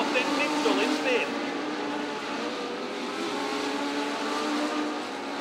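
Legend race cars on Sydney Speedway drone steadily at a distance, a continuous blended roar of several cars passing, with crowd or commentary noise faintly mixed in.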